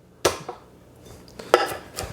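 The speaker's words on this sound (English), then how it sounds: "Garlic. Just give it a whack." A knife whacks garlic cloves on a cutting board during prep of a rustic summer corn salad: two sharp, close thuds about a second apart, with a few lighter knocks between them.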